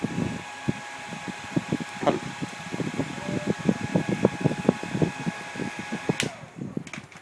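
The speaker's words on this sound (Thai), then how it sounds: "ก็เดี๋ยวตอนนี้ก็ลองเอา ไดร์เป่าผมเป่าดูแล้วกัน" A hair dryer blows on the temperature sensor of an Arduino smart fan, a steady whirring airflow with a faint tonal hum and many small rattling clicks, close and moderately loud, cutting off near the end.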